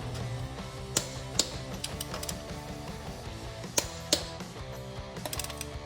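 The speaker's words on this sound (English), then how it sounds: "Now it's time to torque our wheel. Now it's time to start torquing." A torque wrench tightens the wheel lug nuts on a 2007-2016 Silverado 1500 with a 7-inch lift, giving a steady mechanical ratcheting with several sharp clicks scattered through, close by with no talk.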